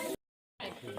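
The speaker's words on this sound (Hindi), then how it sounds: "और ये लग चुका है छौंका।" Tadka tempering spatters and sizzles in hot oil poured over buttermilk with mashed boiled pumpkin and coriander in a village kitchen, a brief loud hiss, then a pause and a steady crackling sizzle.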